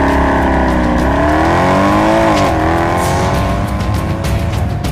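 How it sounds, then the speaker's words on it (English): A Mercedes SL63 AMG with a 6.3-litre V8 and seven-speed MCT transmission launches from a race start, the engine roaring loudly as it climbs through revs, with a brief dip at a gear change, close and continuous. "the SL63 AMG starts like a racing car"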